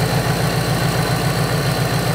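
A car engine idles steadily while the cooling system is checked, a loud, even low rumble with a regular pulsing throb and no voices.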